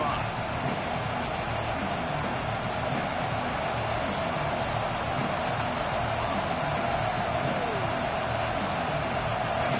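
Steady roar of a stadium crowd at a football game, loud and continuous throughout, with a commentator talking over it.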